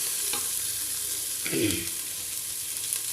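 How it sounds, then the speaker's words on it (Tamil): Onions sautéing in a pan for mutton kothu kari, a steady close sizzle with a louder burst of stirring and scraping midway, no voices. "ஒரு 2 நிமிஷம் இப்படியே நல்லா வெங்காயம் நல்லா வதங்கட்டுங்க"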